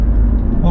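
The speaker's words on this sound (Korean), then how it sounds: "이제 막 출발을 해서 가속을 하면서 이제 가고 있는데요" Loud, low engine drone heard from inside a car pulling away and accelerating during a test drive after its MAP sensor and airflow sensor were cleaned, a steady rumble over a brief moment.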